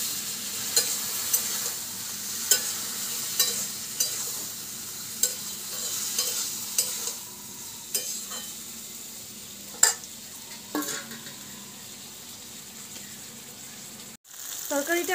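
Raw green banana curry sautéed in a pan for a Bengali recipe, with a spoon scraping and stirring at a steady rhythm of clicks over a constant sizzle, then a sharp break near the end.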